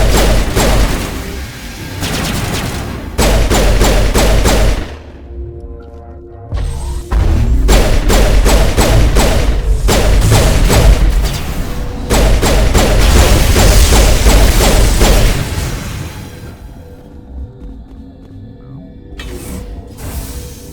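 Heavy firefight in Mass Effect Legendary Edition on Noveria: dense, loud bursts of rapid weapon fire hammer away in long volleys separated by short lulls, with no talking over them.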